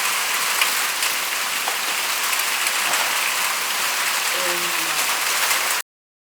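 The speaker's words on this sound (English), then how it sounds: "it's absolutely chucking down with rain" Heavy downpour outdoors during a test of a weather-sealed Sony A7R III camera, a dense steady hiss of rain drumming on surfaces close by, continuous for about six seconds before cutting off abruptly, with a faint voice murmuring briefly underneath.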